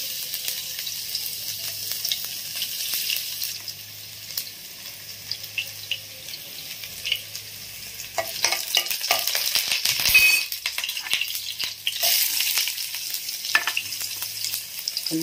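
Ginataang vegetables with bitter gourd, squash, eggplant and okra cooking in a pan, giving a steady close sizzle and frying hiss with stirring scrapes and brief water splashes, no talking.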